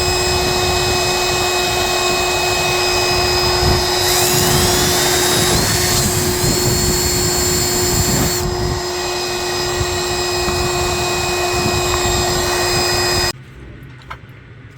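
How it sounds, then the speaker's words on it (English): Power drill enlarging pilot holes for stainless steel rivet nuts in the deck of a C&C 39 sailboat, a loud continuous high whine with pitch shifts as the bit bites, stopping near the end. "Pilot holes drilled, now we're going to enlarge them to accept the rib nuts."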